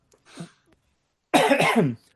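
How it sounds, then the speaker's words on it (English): A short, soft throat noise is followed by one loud, harsh cough from a person with a cold, close to the microphone, then quiet. "excuse the cough there, everybody."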